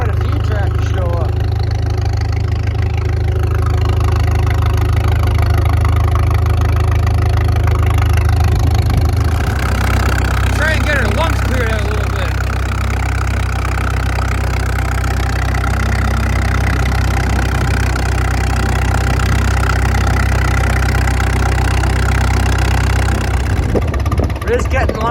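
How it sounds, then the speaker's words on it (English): Antique tractors idle together while lining up for a parade at an outdoor show, a steady low engine rumble throughout with wind noise and a voice talking over it. "there's a few tractors starting to line up now"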